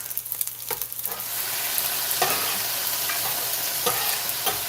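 Sweet chili pork fried rice tossed on a Steelmade griddle over a stovetop burner, with a steady close sizzle and repeated scraping spatula strokes and clanks as the rice is turned, no voices.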